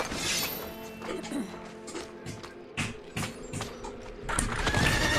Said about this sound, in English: Oh yeah, I have my horse now.